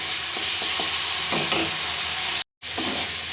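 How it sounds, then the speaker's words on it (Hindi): Finely chopped tomatoes and masala fry in a pan while a spoon stirs them, with scraping strokes over a steady sizzle and a brief dropout near the end. "तो बीच बीच में चलाते हुए 2 मिनट इसे भी भून लेंगे।"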